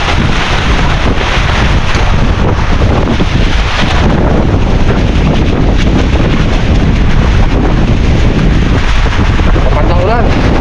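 Strong wind buffets a small fishing boat at sea during a handline fishing trip in the rain, a loud constant roar of gusts and water with a brief faint voice near the end.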